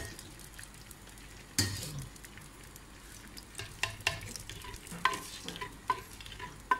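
Onions sizzling softly in a clay pot for mutton kunna, a low, steady frying hiss broken by occasional scraping and stirring clicks, close and fairly quiet.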